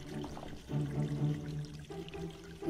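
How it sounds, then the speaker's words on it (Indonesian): Water runs from open village taps, a steady low splashing gush that keeps going with slight surges, fairly faint and without voices. "Keran semua terbuka."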